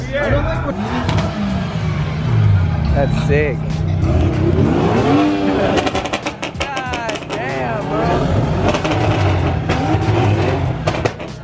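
BMW and Lamborghini engines rev loudly and repeatedly at a car meet, with sweeping pitch climbs, crackles and brief squeals close by, while people talk excitedly over the noise.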